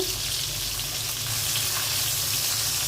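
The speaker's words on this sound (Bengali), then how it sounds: "হালকা একটু ভেজে নেব" Continuous hissing sizzle of pabda fish frying lightly in hot oil in a pan, steady and close, with no voices.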